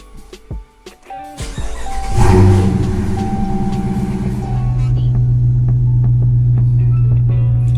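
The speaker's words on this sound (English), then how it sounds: "I'm going to go ahead and turn the car on." A car engine cranks and catches after a few brief knocks, then settles into a steady low idling hum.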